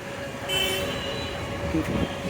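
Continuous rumble and clatter of the Jamuna Express passenger train departing Tarakandi, rolling along rails near a derailment site, with faint metallic squeal, no talking.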